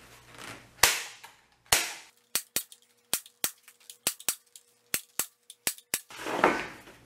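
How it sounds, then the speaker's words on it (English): Staple gun driving staples through plastic vinyl wrap into deck boards, with two heavier thumps followed by a rapid series of sharp, close snapping shots at a steady pace, then a rustling burst at the end. "So I'm just going to hold it as tight as I can and staple it down."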